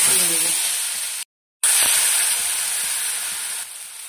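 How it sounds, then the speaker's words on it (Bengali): Ground paste of ginger, onion, garlic and chilli fries in hot oil with a loud, steady close-up sizzle and hiss, briefly cut off by a short silence, then resuming and softening slightly toward the end. "প্রথমে মশলাটা কষিয়ে নেব।"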